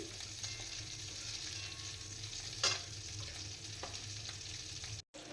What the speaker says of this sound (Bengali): মাছের মাথাটা কিন্তু ভাজা হয়ে গেছে। এবার আস্তে আস্তে কড়াই থেকে তুলে নিচ্ছি।